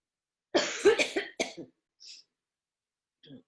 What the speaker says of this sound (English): Let's cough for a second. Like cough it out.